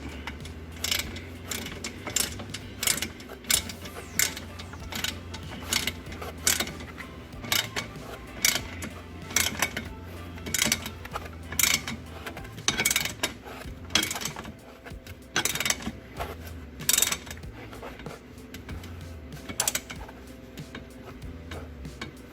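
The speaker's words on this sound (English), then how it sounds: "Going to need our ratchet." Ratchet clicking as a bolt is tightened on a cold air intake for a 2016 Ford 6.7 turbo diesel truck: rapid bursts of sharp metallic ticks repeating steadily at close range, with no talking.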